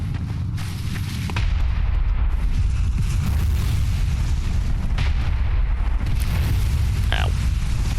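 The church cannon in the video game Bloodborne fires, a heavy booming blast followed by sustained loud rumbling and crashing that fills the whole stretch.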